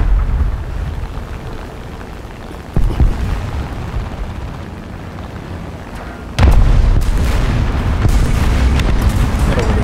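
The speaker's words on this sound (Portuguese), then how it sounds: "Porque ainda só larguei uma bomba. Só larguei uma bomba. Este Junker leva 3 bombas grandes." Bombs dropped by a Junkers bomber in a video game detonate as deep, loud booms, one abrupt blast early and a heavier one midway that leaves a sustained rumbling roar afterward.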